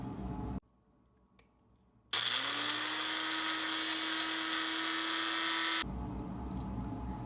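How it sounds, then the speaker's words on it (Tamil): A mixer grinder grinds roasted red chilies for chutney, starting with a short click and then running as a loud, steady motor whine with a gritty rattle for about four seconds before it switches off. "சட்னிக்கு அரைக்க வேண்டிய பொருள்லாம் ஆறினதும் முதல்ல மிளகாயை போட்டு அரைச்சிக்கங்க."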